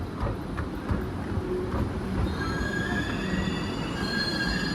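Railway train rolling along with a steady low rumble of wheels and carriages, joined about halfway through by high, sustained metallic wheel squeals that grow louder and persist to the end.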